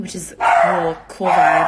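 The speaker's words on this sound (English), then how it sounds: "That's my dog." A pet dog barking indoors during a home livestream, short yips mixed in with someone talking close to the microphone.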